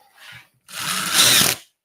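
Power drill driving screws into drywall during room drywalling, a short whirring burst followed by a longer, louder high-pitched spin that rises before stopping abruptly, close and without speech.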